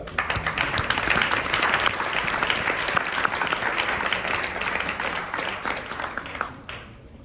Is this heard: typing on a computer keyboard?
no